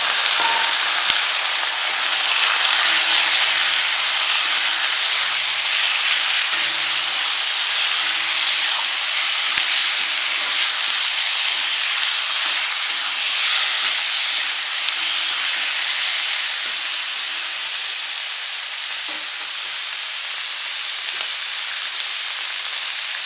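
Pieces of pork hiss and sizzle steadily in a pan with ginger and garlic, a loud continuous fry that eases slightly toward the end, with no voices.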